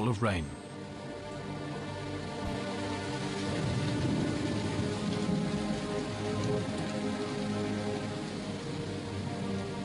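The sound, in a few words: rain with distant thunder in the mountains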